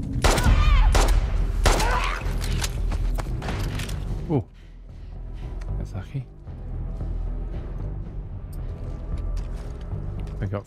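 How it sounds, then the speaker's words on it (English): Gunfire in The Last of Us Part 2 Remastered on PS5 comes as a loud cluster of sharp, close shots in quick succession, then gives way to quieter scattered knocks and movement under a speaking voice. "Four shots with this gun."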